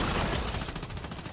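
Sniper rifle fire in the game Once Human, a dense rattling burst of shots that fades quickly over about a second, loud and near.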